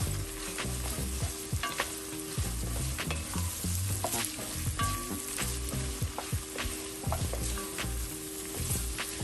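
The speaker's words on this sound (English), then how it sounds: "now we're gonna add in our chopped garlic, and this is fresh minced garlic, and that is 3 cloves." Fresh minced garlic, three cloves, sizzling in a pan while being stirred, with loud continuous frying and repeated scraping strokes of the utensil close by, no talking.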